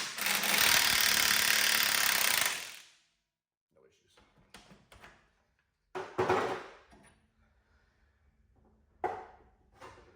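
A Milwaukee impact wrench run at its top setting of 10, used while installing Belltech Nitro Drop 2 shocks on a lowered 1990 Chevy Suburban, gives one loud sustained burst of nearly three seconds, followed by quieter clunks and a voice.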